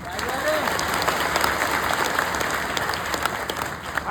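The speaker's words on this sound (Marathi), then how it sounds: "सर्वांनी एकदा टाळ्या वाजवता याच्यासाठी" An audience claps together at a motivational speech event, a dense, continuous applause close by with a voice speaking over it.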